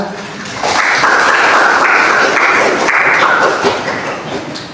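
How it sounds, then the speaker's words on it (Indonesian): Classroom applause breaks out after a student answers a question about stress, a sustained wash of clapping at fairly close range that swells and then gradually tapers off. "Ya, benar ya. Tepuk tangan."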